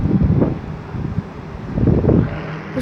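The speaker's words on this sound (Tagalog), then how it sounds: "Grabe ang hangin, oh, kusog kayo." Strong gusts of wind roar outside at night, strong enough to rattle window shutters, with a deep, uneven rumble that swells and eases in waves.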